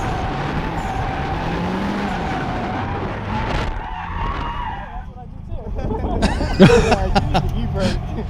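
Car drifting with tires squealing in a long, wavering screech over engine roar, then a break and a harsher burst of skidding and revving, with voices chattering in the background.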